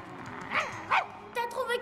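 A dog in an animated French film gives a few short yips and barks, mixed with a voice and other sounds in a brief moment.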